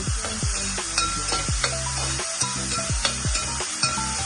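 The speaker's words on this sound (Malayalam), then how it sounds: "നമുക്ക് സബോളയും ഇഞ്ചിയും വെളുത്തുള്ളിയും പച്ചമുളകും കൂടെ എണ്ണയ്ക്കകത്തോട്ട് ഇട്ട് കൊടുക്കാവേ കേട്ടോ." Onion, ginger, garlic and green chili sizzle in hot oil while being stirred, with a steady close crackle broken by repeated scraping strokes of the spoon against the pan.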